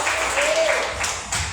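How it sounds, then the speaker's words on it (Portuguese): A church congregation claps steadily at a Saturday worship service, with the applause dense and sustained throughout and a voice faintly audible over it. "As palmas é para o Senhor nesse Senhor."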